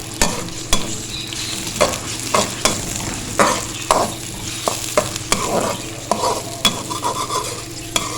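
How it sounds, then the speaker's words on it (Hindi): Onions fry in about half a cup of oil in a pan, making a constant close sizzle punctuated by regular scraping and clinking stirs of a spatula, with no voices. "अब इसमें डालेंगे 1/2 कप ऑयल और हमने प्याज को करना है लाइट सा गोल्डन"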